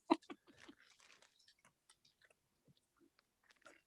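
Crunchy crisps being bitten and chewed close up, with a sharp loud first crunch followed by softer, irregular chewing crackles that fade to sparse faint bites, then a brief cluster of crunches near the end.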